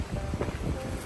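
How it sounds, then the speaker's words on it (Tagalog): Cold, strong wind sweeps through Gamcheon Culture Village in Korea, a steady low roar battering the microphone up close, swelling into a heavier gust at the very end. "Lakas ang hangin."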